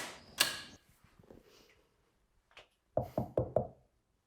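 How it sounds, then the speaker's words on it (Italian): Knocking on a door inside a house: a single thud and some faint shuffling, then four firm, evenly spaced raps, close and clear, with no one speaking. "hanno bussato"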